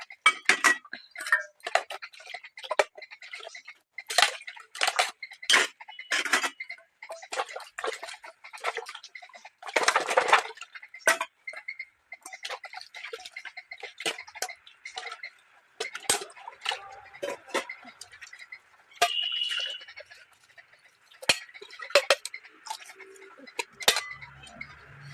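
Dishes and pots are washed by hand at home: scattered light clinks, taps and drips of utensils knocking together, irregular and close, with brief quieter pauses over a long stretch.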